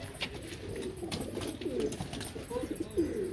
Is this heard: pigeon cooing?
yes